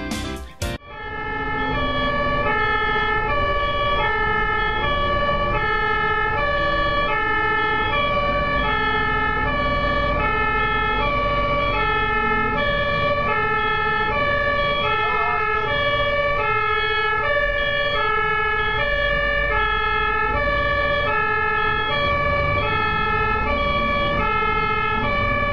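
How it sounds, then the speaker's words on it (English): An ambulance siren wails steadily and loudly on a German road, its repeating two-tone pattern cycling evenly for the whole stretch with traffic rumble beneath and no talking. "look at how Germans respond when there's an ambulance"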